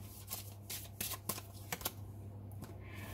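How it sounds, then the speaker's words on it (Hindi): Tarot cards being shuffled and drawn from the deck at close range, a quick run of soft riffling snaps and slides against a steady low hum. "चलो ये कार्ड अपने आप आया है। पास्ट लाइफ रिलेशनशिप, ओके, एक कार्ड और लेंगे।"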